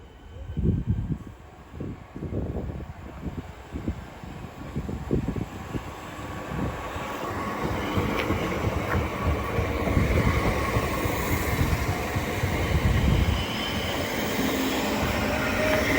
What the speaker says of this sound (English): It's about ready to go now will be the 1050 South Eastern service to London Charing Cross.